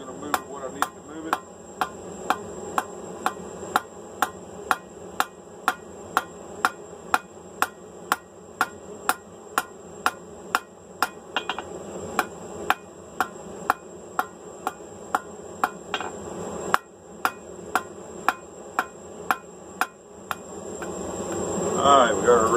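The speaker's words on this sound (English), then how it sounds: "Now the hammer's going to move it what I need to move it." Hammer blows forging steel stock for a pair of flat bit blacksmith tongs, a steady run of sharp, evenly spaced ringing strikes, close and loud, continuing for the whole stretch with a brief pause near the end.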